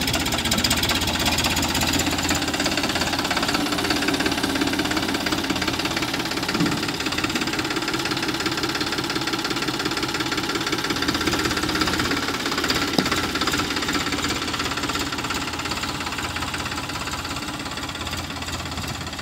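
A Farmtrac 35 Champion Allrounder tractor engine runs continuously for nearly twenty seconds, a loud, steady diesel knock and clatter with a rough vibrating rhythm and no voices.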